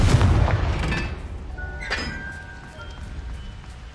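Confringo spell blasts in the Hogwarts Legacy game, a heavy fiery boom followed by a sharp clinking impact and ringing metallic tones trailing off over a few seconds.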